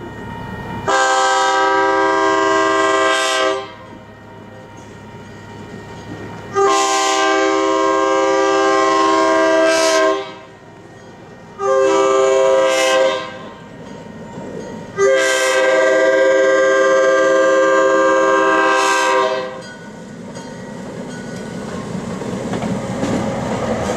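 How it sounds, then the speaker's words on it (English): Locomotive 1101 leading a Santa Cruz and Monterey Bay Railway passenger train over Ohlone Parkway near La Selva Beach sounds its horn in four loud, close blasts, the third one short, over a low rumble of the train. "1101 leads the passenger train over Ohlone Parkway to go to Watsonville Junction"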